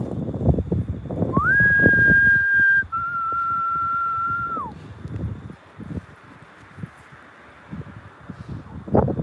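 A person whistles two long, steady sustained notes, the second slightly lower, while people talk and rustle nearby in the dark.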